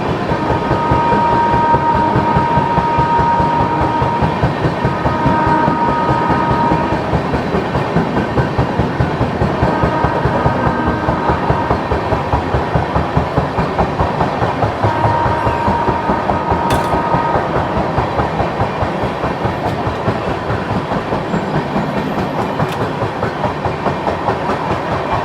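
The Kacheguda–Bhagat Ki Kothi Express overtakes alongside, giving a continuous loud rumble with a steady rhythmic clickety-clack of wheels over rail joints throughout.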